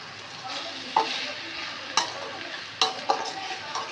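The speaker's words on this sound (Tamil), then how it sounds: "இப்போ வந்து நல்லா வதக்க எறா தொக்கு வந்து ரெடி ஆகிட்டே இருக்குது." Prawn thokku being sautéed in a pan gives a soft continuous sizzle, broken by several sharp scrapes and clacks of a spatula stirring the thick mixture.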